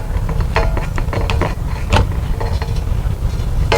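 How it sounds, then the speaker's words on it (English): Old wire nuts are twisted off the wiring of a front door light fixture, giving a rapid series of small close-up clicks and plastic ratcheting scrapes over a steady low background hum. "we're going to unscrew the wire nuts right here so we can remove the old fixture itself"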